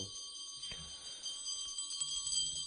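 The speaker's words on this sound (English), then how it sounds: "please ring the bell as you do so" A small hand bell rings during a lamp-waving offering ritual to a guru, a quiet bright tinkling that repeats softly over a steady background hum, with a few faint clinks scattered through.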